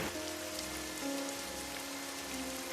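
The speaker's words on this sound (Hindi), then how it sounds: "क्या बात है, इतनी बारिश में आए हो?" Heavy rain pours steadily as a dense, even hiss, close and continuous with no voices, in an animated village scene with a poor farmer's home.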